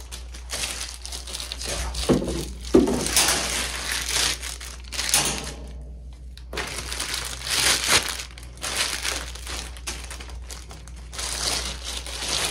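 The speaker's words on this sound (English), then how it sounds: "Let's get it out of this packaging real quick." Crisp plastic packaging crinkles and crushes as it is pulled off an ACC Crappie Stix Super Grips mid seat fishing pole, a dense, close, continuous rustling with brief pauses and a few quiet spoken words.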